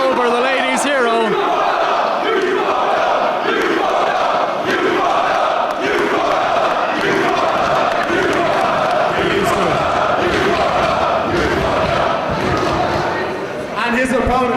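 A wrestling crowd at an Irish Whip Wrestling show cheers, shouts and chants steadily and loudly the whole time, with rhythmic bursts of noise and an announcer's voice speaking over the din.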